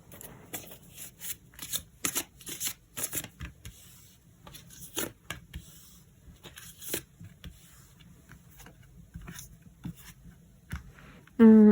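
Tarot cards being shuffled during a love reading, giving a series of soft, quick riffling and slapping bursts in irregular clusters, fairly close and quiet, ending with a brief louder sound.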